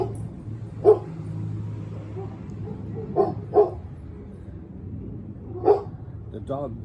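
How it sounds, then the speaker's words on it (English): A German Shepherd indoors gives several sharp, separate barks spaced a few seconds apart, with a low steady hum in the background and a faint whine near the end. "Ruby, almost made it without you barking."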